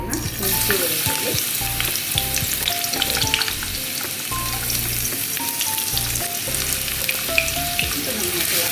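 Fennel seeds, ginger and garlic sizzle vigorously in hot oil for a paneer curry, a loud continuous frying hiss with crackles and occasional stirring clinks, close up.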